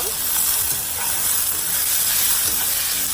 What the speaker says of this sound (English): just stir fry around in my high heat